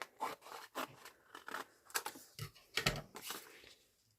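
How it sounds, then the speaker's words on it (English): Scissors cut along a strip of orange paper for a mushroom-themed craft folio, a quiet series of crisp snips in an irregular rhythm, close up with no talking. "So I'm just going to simply cut that along there."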